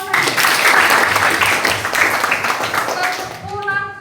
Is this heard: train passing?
no